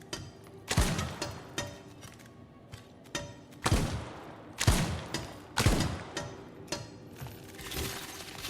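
Gunshots in the video game Crisol: Theater of Idols ring out as about eight loud, booming blasts spaced irregularly, each with a sharp crack and a reverberating tail, with no talk.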